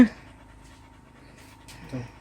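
A dog pants softly and rapidly nearby on a hot evening, quick rhythmic breaths over a quiet background, with a brief louder huff near the end.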